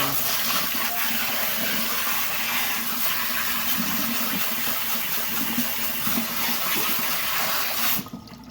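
Warm tap water runs steadily while gunk is rinsed off a sponge filter from a 155-gallon planted aquarium, a continuous close splashing gush that cuts off abruptly near the end.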